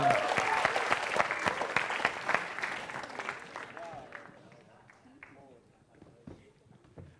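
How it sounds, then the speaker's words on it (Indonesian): Loud clapping from a stand-up comedy audience starts strong and gradually thins out, leaving scattered claps and faint murmuring voices as it dies away. "tepuk tangan untuk Abdel."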